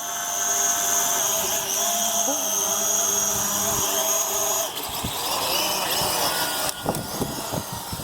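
A faulty drone whining and buzzing as it struggles to lift off, its steady high-pitched rotor drone running throughout with a few shifts in pitch and some rattling knocks near the end.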